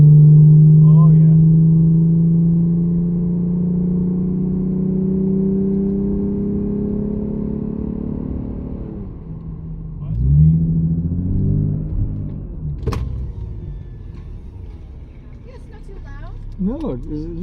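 A Lexus IS in sport mode with an axle-back exhaust, its engine droning loudly at first and then easing off, with a later swell as it revs up again while someone talks over it.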